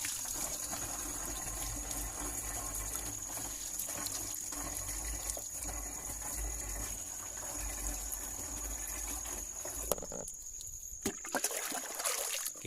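Water flows steadily at a remote mountain spring used for collecting irrigation water, a continuous close gushing stream with no talk, briefly interrupted by a few handling clatters near the end.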